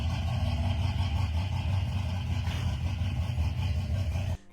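An old-school gasser street and strip car engine runs steadily, a loud, deep, throbbing rumble heard on its own that cuts off abruptly at the end.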